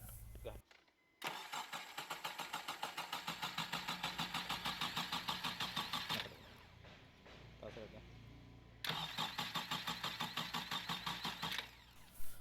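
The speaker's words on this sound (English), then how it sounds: "Just go ahead and crank the engine." A Honda Civic engine cranks repeatedly with a fast, even rhythmic chug but never catches, in two long bursts separated by a pause.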